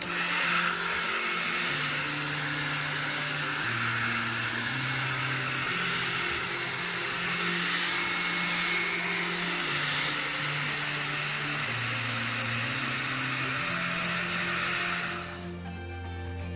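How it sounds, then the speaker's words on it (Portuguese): A hair dryer drying paint roars steadily and loudly for about fifteen seconds, its pitch wavering slightly, then switches off abruptly. "Podemos usar o secador de cabelo."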